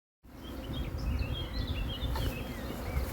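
Honeybees in a hive colony make a steady, close buzzing drone that starts abruptly and holds loud and even, with higher whining wingbeats drifting through it.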